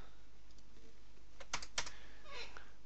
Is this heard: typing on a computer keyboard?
yes